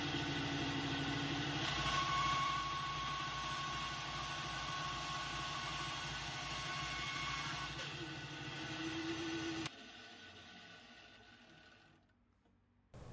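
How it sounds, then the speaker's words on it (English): A bandsaw cuts Scotch-Brite material in a workshop, giving a steady motor hum and blade whir that shifts slightly in pitch, then drops off sharply near the end as the machine stops. "I had my bandsaw handy, so I just went ahead and used that just to make nice clean cuts"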